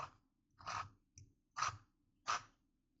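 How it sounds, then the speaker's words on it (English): A clean lemon is rubbed over a cheese grater to make zest, giving four or five close, scratchy strokes in a steady rhythm with quiet gaps between them. "I'll take a clean lemon and run it over the grate."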